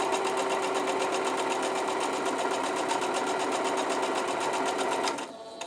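A sewing machine runs close and steady, stitching a quarter inch seam for quilt piecing with a fast even needle rhythm for about five seconds before stopping abruptly.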